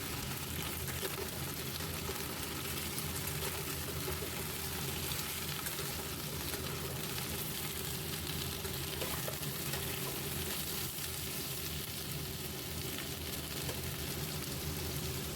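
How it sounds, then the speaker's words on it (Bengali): Potato pieces fry in hot oil while being stirred, a dense, continuous sizzle with scraping texture that holds steady and close throughout, with no voices. "সব আলু তেলে দিয়ে দেওয়া হয়ে গেলে সেগুলোকে ভালোভাবে নেড়ে নিলাম"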